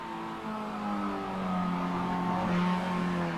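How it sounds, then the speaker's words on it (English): Race car engine droning steadily at a roadster racing event, with sustained high tonal whine that could be tyres squealing, continuous and fairly loud throughout. "Hear the tyres squealing."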